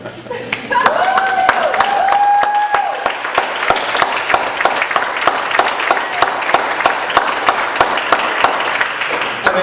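An audience at a Los Angeles City Council District 11 candidate forum claps steadily for nearly ten seconds, the dense patter of hands filling the room. A speaking voice runs under the clapping early on.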